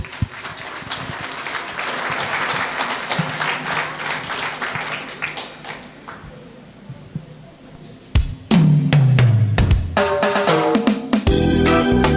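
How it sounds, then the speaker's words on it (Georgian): Audience applause for seven-year-old singer Keti Shalamberidze at a children's show in Batumi, a steady crowd clapping for about eight seconds before music and other sounds take over. "ტაში"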